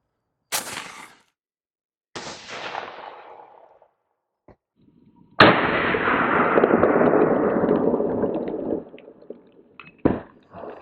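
Gunshots from a PSA GF3AK, a US-made AK rifle, fired outdoors: two sharp reports early on, then a loud, close blast with a long rolling decay, followed by a brief final crack, with no talking.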